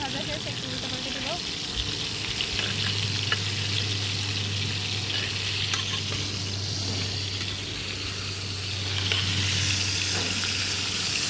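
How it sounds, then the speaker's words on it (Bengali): Chicken pieces frying in a pan while making chicken kosha, a steady close sizzle with occasional stirring clatter that continues throughout. "মাংস প্রায় একদিকে ভাজা শেষ, একটু উল্টো পাল্টে দেবো"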